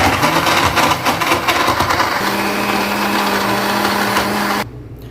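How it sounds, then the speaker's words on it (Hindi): An electric blender whirs loudly and steadily, mixing oats with other energy drink ingredients, then cuts off abruptly near the end, leaving a quiet room. "ब्लेंडर को करेंगे बंद और इसको हम चलाएंगे।"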